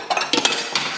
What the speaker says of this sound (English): Now I've just got to beat these 3 eggs.